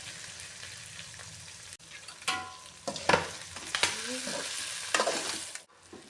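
Chicken liver fries in oil while a spoon stirs and scrapes the pan, a close sizzle broken by several sharp clanks and scraping strokes at irregular intervals.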